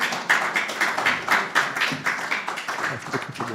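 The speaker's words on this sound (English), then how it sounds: "Keep clapping till she comes on stage." Audience clapping at an art exhibition and book launch, a steady patter of many hands in a room, fairly close and continuous without voices over it.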